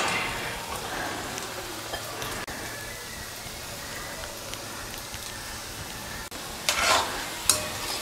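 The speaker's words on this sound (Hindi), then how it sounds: "तो तेल हमारा गर्म हो चुका है और इसमें हम ये जो कोफ्ते बनाए हैं वो डाल देते हैं।" Raw banana koftas frying in hot oil over a medium-low flame make a quiet, even sizzle, broken by a few faint scrapes and a short burst of spattering near the end.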